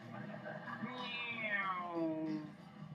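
A person imitates a cat's meow, a drawn-out falling whine in a single call.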